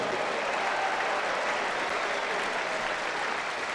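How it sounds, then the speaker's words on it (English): A huge crowd at the Ageas Bowl applauds steadily through a sunny Hampshire Hawks v Kent Spitfires T20 cricket match, the dense clapping holding an even, unbroken level from start to finish with no talk over it. "Another round of applause from this huge crowd here at the Ageas Bowl"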